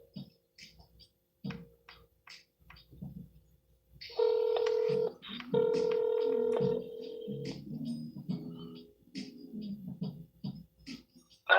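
Telephone being dialed to return a call: a quick run of keypad tones, then longer steady tones with faint ticking and clicks, fairly quiet and close, with no talking.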